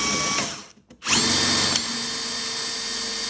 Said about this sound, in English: And it drills a little hole just like that